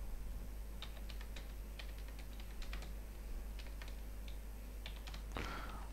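Computer keyboard keys clatter as prices are typed into an Excel 2013 spreadsheet, a quick irregular run of close, crisp clicks with short pauses, over a steady low hum.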